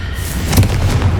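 The Confringo blasting spell goes off in Hogwarts Legacy, a loud, short, booming burst of rumbling, explosive energy.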